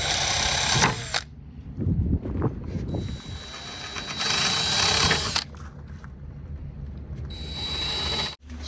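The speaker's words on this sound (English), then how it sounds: "let's drill the rest of them" Cordless power drill boring holes for a headliner shelf inside a Ford Transit van, several whirring bursts of a few seconds each separated by pauses and small clicks, close and fairly loud.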